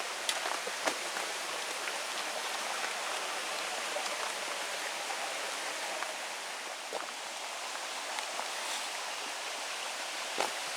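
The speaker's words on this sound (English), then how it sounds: "It's a pretty little creek." Small creek near waterfalls in Blowing Rock, North Carolina, giving a steady broadband rush of flowing water, even and continuous throughout with a few faint clicks and taps over the wash.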